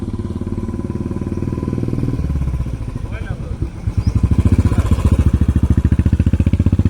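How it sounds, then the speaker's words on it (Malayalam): A Yamaha FZ S V3 motorcycle engine runs close by with a steady mid-range throb that turns into a pulsing, rhythmic chug halfway through, with people talking over it. "ഇതാണ് നമ്മുടെ ബൈക്ക്"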